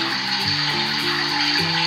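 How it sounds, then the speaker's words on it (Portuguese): A toy bathtub's little faucet plays an electronic running-water sound, a loud, continuous pouring hiss with a faint melodic tone underneath. "E faz esse som de água derramando da torneira."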